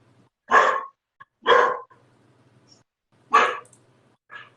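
A neighbor's dog barks four times in separate bursts, moderately close and loud, with quiet gaps between barks and no talking.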